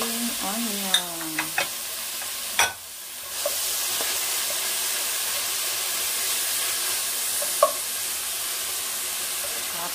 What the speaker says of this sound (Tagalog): Alu-aluin natin hanggang sa maluto na yung ating onion, ginger, at saka garlic.